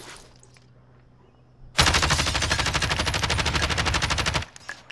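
Automatic gunfire in Call of Duty: Warzone, a long sustained burst of rapid, evenly spaced shots that starts suddenly after a quiet stretch and cuts off sharply, loud and close.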